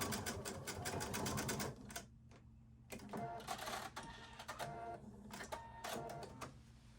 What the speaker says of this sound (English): So here I'm stitching that seam, removing the pins, and then back tacking at the end of the seam.